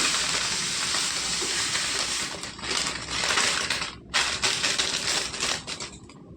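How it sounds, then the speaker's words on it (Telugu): Sesame seeds, about a quarter kilo, roasting in a hot kadai for sweet laddus: a steady dense crackling sizzle with brief gritty stirring scrapes and short pauses, close and continuous, with no talking. "నువ్వులు వేసుకుంటున్నానండి పావు కేజీ అండి"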